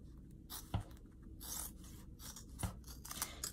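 Crisp scissor snips through thick, stiff vinyl and zipper on a vinyl zipper bag, two sharp cuts separated by quieter rustling and scraping, close by.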